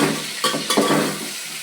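Green chillies and curry leaves hitting hot oil for a tempering, bursting into a loud hissing sizzle with a couple of sharp crackles that slowly settle.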